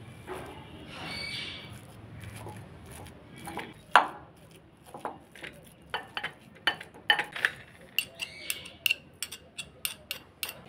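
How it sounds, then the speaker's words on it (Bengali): Ripe kodbel fruit is mashed in a bowl with a utensil: soft squelches and sharp clicks of tool against dish, sparse at first and then a steady rhythmic series of close knocks in the second half. "এবার এটা দিয়ে একটু ম্যাশ করে নেব।"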